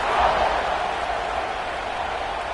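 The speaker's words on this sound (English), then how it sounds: "this crowd is buzzing after that last score" A football stadium crowd buzzes after a score, a broad, steady, distant roar with no distinct claps or shouts standing out.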